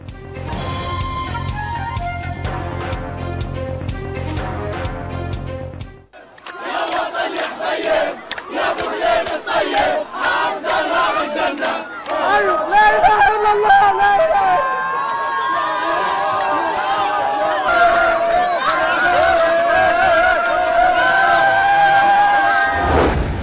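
A dense street crowd in Khan Younis celebrates a ceasefire with dancing, loud continuous cheering, shouting and chatter that fills the scene, after a brief stretch of other sound at the start.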